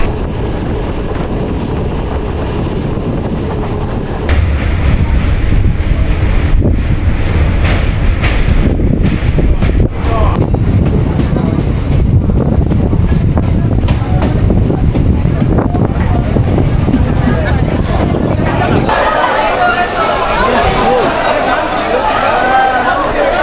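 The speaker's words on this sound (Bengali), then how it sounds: "ট্রেন ঢুকিয়েছে নামখানার 1 নম্বর প্ল্যাটফর্মে" A train pulls into platform 1 at Namkhana station, its steady low rumble and rattling carriages continuing for most of the stretch while people talk nearby, the noise easing near the end.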